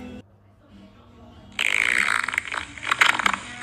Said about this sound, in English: what we got here is an air cannon. Okay, and I'm farting it.